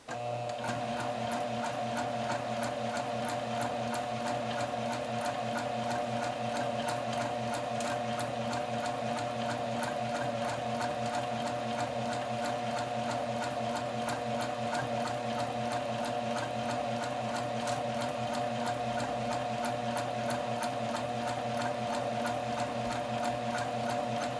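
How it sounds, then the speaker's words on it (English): A sewing machine runs steadily, stitching a French seam at a quarter-inch seam allowance, with a continuous even whir and rapid needle ticking that stays loud and close throughout, with no talking. "And stitch carefully at a 1/4 inch seam allowance."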